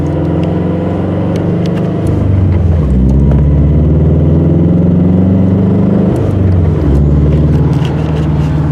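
A manual transmission car engine pulls away on a hill and climbs through the gears, its hum rising in pitch, dropping at each shift and rising again, loud and close from inside the cabin.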